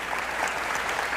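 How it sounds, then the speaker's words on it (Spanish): A brief burst of dense applause for graduates, an even wash of many hands clapping together. "Un fuerte aplauso para ellos y felicitaciones."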